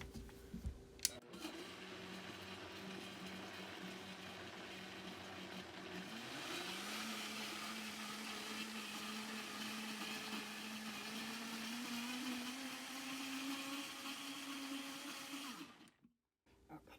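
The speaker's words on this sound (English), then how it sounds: "So we'll grind it again." Wet grinder churning vattayappam batter mixed with a spoonful of instant yeast, a steady close motor whir with a rising hum that runs continuously, then cuts out near the end.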